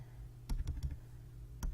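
Calculator keys pressed while entering numbers for a geometry problem, a few soft clicks in a quick cluster followed by one more press after a pause, quiet and alone.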